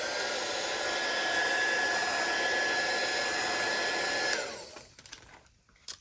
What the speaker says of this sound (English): Dry it a little bit.